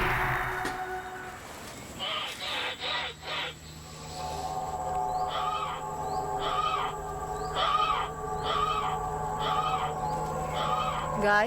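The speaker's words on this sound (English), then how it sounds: "The quacking. Yeah, it's just some wild birds." Wild birds call in a forest with a series of regular, repeated hooting or quacking notes over a steady ambient background, preceded by a few scattered louder knocks and calls.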